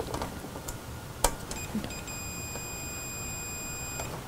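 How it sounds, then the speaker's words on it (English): Beeping from a Journey arcade monitor when its vertical hold is adjusted: a steady high electronic tone sounds continuously for about two seconds, following a few short clicks and taps, with no talking. "So vertical hold beeps like crazy."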